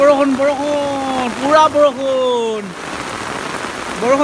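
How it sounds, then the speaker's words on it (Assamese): Heavy rain falls on a road, a steady wet hiss beneath a prominent, melodic voice that rises and falls over it. "পুৰা বৰষুণ দিছে"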